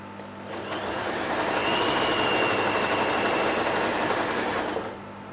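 A Janome J3-18 sewing machine sews a zigzag stitch in one steady, close whirring run of about four seconds, starting and stopping cleanly with no talking.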